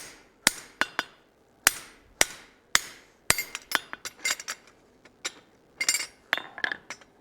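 Hammer blows rain on hot steel over a forging die as a candlestick is necked down, a long run of sharp ringing strikes, some spaced and some in rapid clusters, close and loud with no speech.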